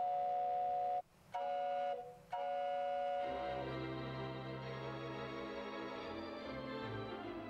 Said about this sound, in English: and down on the pedal we have a train.